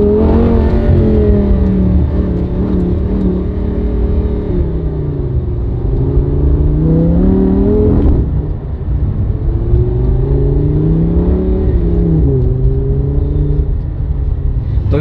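Lamborghini Gallardo engine revs hard and rises in pitch, then drops and climbs again; a loud, close, continuous growl with no talking over it.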